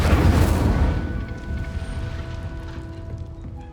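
A casting of the Incendio fire spell in Hogwarts Legacy bursts out as a loud whooshing flare at the start, then dies down into a lingering crackling roar and faint tones.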